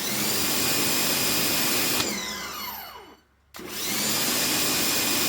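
A Sun Joe pressure washer runs with a steady loud motor whine, then winds down in a falling pitch sweep, cuts out briefly, and starts back up to full drone.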